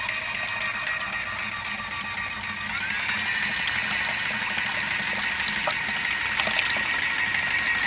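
Airless spray pump running during cleaning, a steady mechanical hum with rapid ticking and clicking pulses throughout, close and moderately loud, with no talking.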